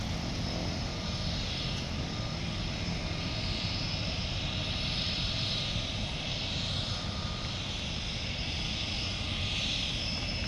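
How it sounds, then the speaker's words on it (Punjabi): A seaplane's engine drones steadily across Vancouver harbour, a constant, moderately loud propeller hum lasting the whole stretch with no break and no talking. "ਇਹ ਪਾਣੀ ਵਾਲੇ ਜਹਾਜ਼ ਆ ਉੱਡਣਗੇ"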